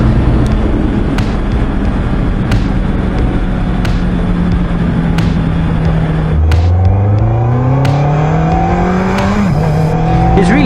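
A Honda CB650R motorcycle engine revs loud and close, its pitch climbing steadily toward 7,000 RPM. It then drops back briefly and rises again in a rough, buzzing whine.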